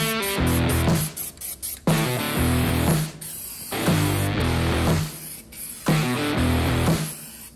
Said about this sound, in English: And we're just gonna spray paint this black.